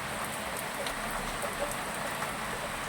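Steady rain falling and pattering on surfaces, a continuous even hiss with scattered drop ticks, moderately loud and close, with no talk.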